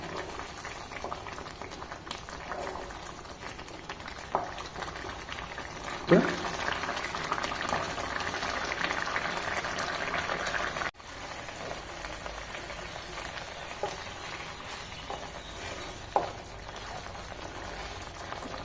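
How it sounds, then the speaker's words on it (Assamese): A semolina and almond mixture bubbles softly in a pot on a home stove, with a continuous low simmering hiss and occasional small pops and a stirring clunk, a voice talking over it. "এইখিনি ভালদৰে উতলি আছে আৰু লৰাই দিছোঁ অকণমান।"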